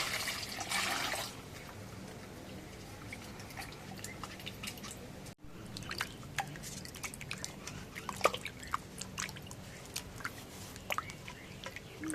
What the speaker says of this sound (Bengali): এখন ব্রয়লারের মাংসটা ধুয়ে নেই